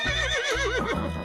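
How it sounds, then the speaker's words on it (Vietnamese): A horse gives a loud, close whinny, a single quavering high-pitched neigh that rises and wavers before trailing off, heard alone. "Con ngựa."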